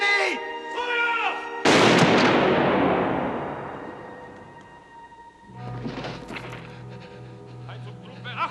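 Firing squad rifle volley in a World War II German setting: a single loud booming blast that rings out and decays slowly, following shouted commands, with more voices afterward.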